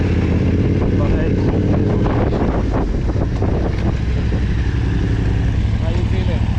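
A Yamaha Ténéré 700 rally-build motorcycle on its first test ride: a steady engine drone nearly buried under loud, constant wind buffeting across the whole stretch.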